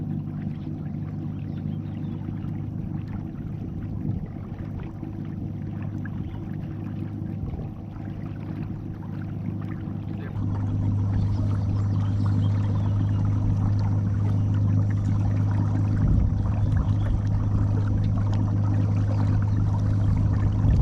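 A Watersnake T24 electric trolling motor converted to 18 volts runs at 66% power on the water, a steady low hum that steps up in pitch and loudness partway through, with no talking.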